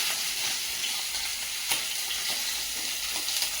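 Leafy greens frying in oil in a home kitchen pan give off a steady, dense sizzle with a few soft stirring scrapes, close and continuous, with no voices.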